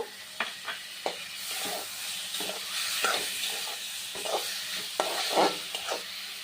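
Amra chutney with cashews and raisins is stirred in a sizzling pan, a spoon scraping in repeated strokes over a soft steady frying hiss, with no voices.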